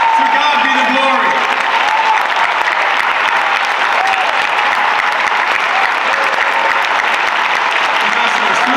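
An audience at an MLK Day celebration applauds loudly and continuously, a dense wash of clapping filling the hall, with some voices mixed in.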